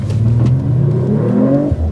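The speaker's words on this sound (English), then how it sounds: "right now I'm going to go ahead and make the exhaust nice and loud" A Mercedes-AMG CLE 53 4MATIC+ turbo 3-liter inline-six revs hard, the loud exhaust climbing in pitch in one sustained rise before a sharp cut and burble, close and alone.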